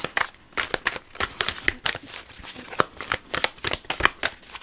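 Oracle cards are shuffled by hand in quick, crisp bursts of riffling and slapping, close and fairly soft, with short pauses between runs.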